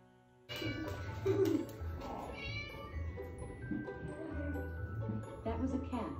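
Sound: cat meowing

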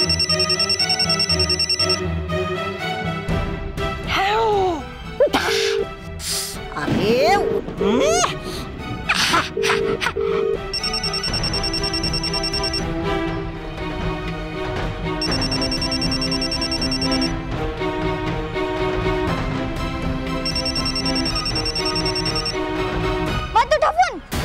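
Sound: phone ringing with an incoming call

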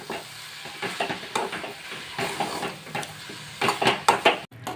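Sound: stirring carrot halwa in a pan

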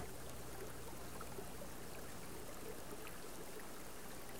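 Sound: 30-foot waterfall in Alabama coastal plain, Hidden Falls

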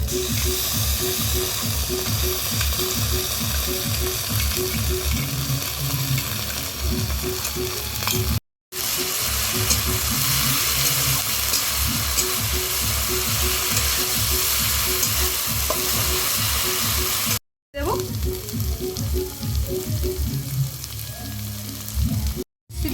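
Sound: frying cumin, ginger, garlic and chili paste with prawns

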